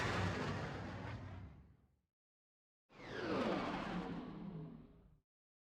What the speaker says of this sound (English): there is a meteor shower going on. That's why there's explosions in the distance.